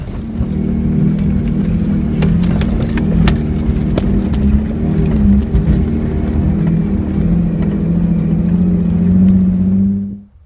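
Campervans crawl slowly along a rough track in Port Lincoln National Park, a steady loud engine drone with rumbling road noise and occasional knocks and rattles, continuous throughout and easing off at the very end.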